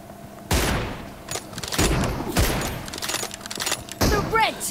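Rapid, loud bursts of gunfire and heavy thuds in the PUBG Mobile battle royale game, shots cracking in several clusters with a voice talking underneath and chirping effects near the end.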